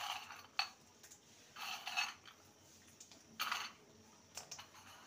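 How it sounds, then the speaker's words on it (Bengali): Spoon scraping and clinking in a pan as banana stem curry topped with fried lentil dumplings is stirred, several short bursts of close metallic scraping separated by quiet gaps. "ভালো করে নেড়ে নেব।"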